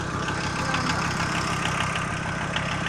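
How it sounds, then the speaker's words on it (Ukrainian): A Volkswagen T4 Caravelle van engine idles steadily with a low, rhythmic chugging pulse, close by and constant, with no voices. "Моторчик працює чистенько, акуратно, тихенько"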